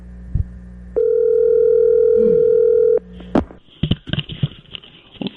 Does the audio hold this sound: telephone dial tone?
yes